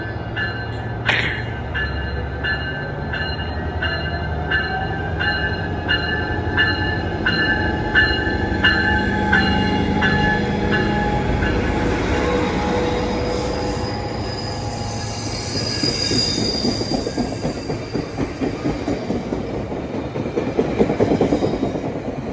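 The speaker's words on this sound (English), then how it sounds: "recorded Coaster 671 departing Carlsbad Village, making its way over to its final stop of Oceanside Transit Center" A Coaster commuter train pulls away from Carlsbad Village station in North County San Diego, wheels squealing and cars clacking rhythmically over rail joints, building in loudness as it moves off, with a horn-like tone early on.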